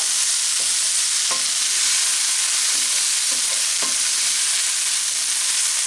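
Cubed potatoes for corned beef hash sizzle steadily in a hot pan, a continuous close hiss broken by a few soft scraping stirs.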